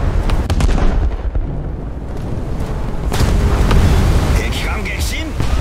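Battleship guns fire in a naval video game, with the Kongou shooting at the Huga. Heavy booms and rumbling blasts roll through the clip, loud and close, under game noise and some voice.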